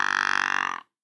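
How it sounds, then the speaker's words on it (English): A deer grunts once, close by: a short, buzzy, rapidly pulsing call lasting under a second, then silence. "You know what that sound was? A deer grunt."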